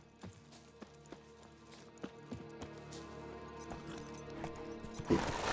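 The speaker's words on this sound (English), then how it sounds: "There's my horse." Hoof clip-clops of a horse in The Witcher 3: Wild Hunt video game trot along at a steady, moderate pace over a droning musical background, with a brief louder burst near the end.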